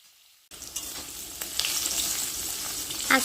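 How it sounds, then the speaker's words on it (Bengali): Sliced teasel gourd hits hot oil in a pan after a moment of near silence, bursting into a steady, bright sizzle of frying that swells slightly toward the end. "তো এই 4টা কাকরোল কেটে ভাজা করছে।"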